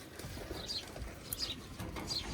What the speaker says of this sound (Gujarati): આ છે આપણા ચકલાઓ નાના નાના